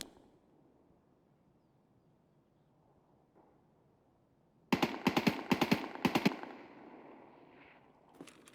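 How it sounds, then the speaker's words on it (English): Machine gun fire in an online shooter game, a short burst of rapid loud shots after a quiet stretch, followed by a fading rumble and one more crack at the end. "I just heard an MG shooting"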